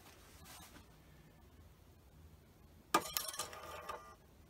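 A Magnasonic FS81 8mm film scanner sits quiet at first, then abruptly whirs and clatters into motion with a burst of close mechanical clicking and rattling as the film begins to advance.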